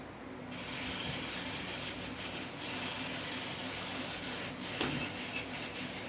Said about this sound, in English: This is the sound of the construction in between when you hear the video.